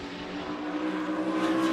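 Race trucks in the TSport 200 roar past at speed on track, a steady, loud, continuous engine drone that swells slightly toward the end, with no voices.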